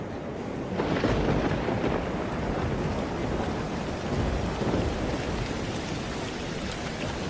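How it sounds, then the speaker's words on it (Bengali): Thunder and heavy pouring rain used as a storm sound effect, a loud rumble that swells early and then settles into a dense, roaring downpour that continues steadily with no voices over it. "তারপরই বাজের বাজনা আর বিজলির রোশনাইয়ের সঙ্গে সঙ্গে ঝমঝম বৃষ্টি শুরু।"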